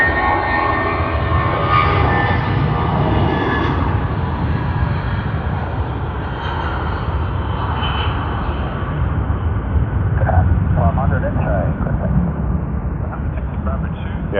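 An aircraft departs Sydney Airport on runway 16, its engines producing a steady broad roar that holds at a similar level throughout, with people talking over it.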